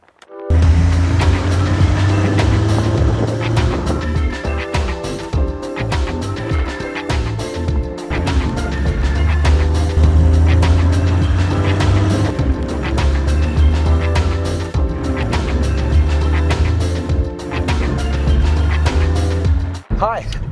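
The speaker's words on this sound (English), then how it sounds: "with the Datsun coming back down on jack stands, finally, we can take it out for a test drive." A 1978 Datsun 280Z on a test drive after new tires and brakes, its engine droning steadily up close from inside the car, with low rumbling tones shifting as it accelerates and changes gear.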